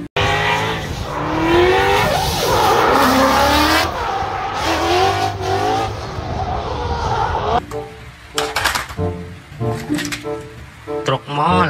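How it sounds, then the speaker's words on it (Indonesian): A race car, one of several toy and real vehicles in a children's vehicle segment, roars through a loud, sustained engine drone with revving and tire squeal for most of the clip, then fades into rougher, choppier bursts of sound. "Mobil balap."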